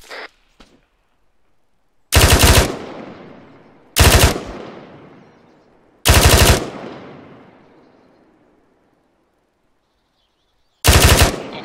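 Machine-gun fire on a bunker in the video game Arma 3 comes as four loud, separate bursts, each a rapid rattle of shots followed by a long fading echo, with quiet gaps between them.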